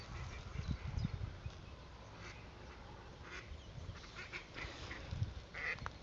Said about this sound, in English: There goes Mrs. Duck.